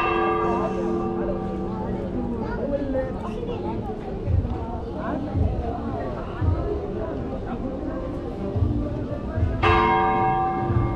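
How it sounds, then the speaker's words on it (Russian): A church bell in Nazareth rings out with long resonant tones amid outdoor crowd chatter, a fresh loud strike near the end ringing over the murmur. "Очень красивый звук у колокола"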